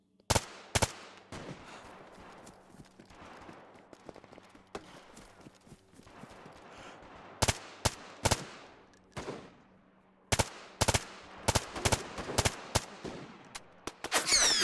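A gun fires in the video game DayZ, with sharp, loud gunshots in separate bursts of two and three over a steady in-game background rumble.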